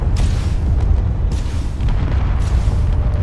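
Heavy booming explosions and weapons fire from a space battle in the video game Space Engineers, loud repeated blasts rolling one after another with no voices.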